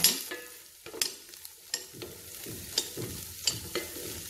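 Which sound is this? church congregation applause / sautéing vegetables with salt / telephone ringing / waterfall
sautéing vegetables with salt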